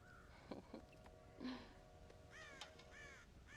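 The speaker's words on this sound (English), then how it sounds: "God damn crows!" Several crows on a farm in Red Dead Redemption caw in scattered, harsh calls, a few separate bursts at moderate distance over a quiet background.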